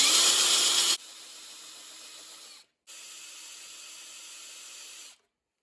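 A power drill whirs as a small bit bores a pilot hole, opening with a loud, bright burst, then settling into a quieter steady whine that stops briefly, resumes, and then cuts off.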